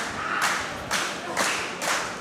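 A crowd at a wrestling match claps in slow, rhythmic unison, four loud, even bursts about half a second apart, close and clear.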